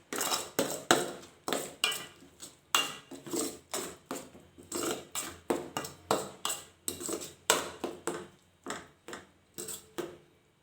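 A spoon stirs a chana dal laddu mixture with sugar syrup in a pan, making a steady rhythmic run of scraping clinks against the metal, close and moderately loud without speech.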